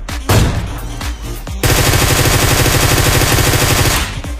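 Gunfire in the video game Peacekeeper Elite: a few loud separate shots are followed by a long, sustained burst of rapid automatic fire, all close and dominant.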